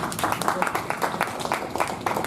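Applause from an audience at a Toastmasters club meeting, a steady patter of many hands clapping throughout, fairly close and moderately loud with no talk over it.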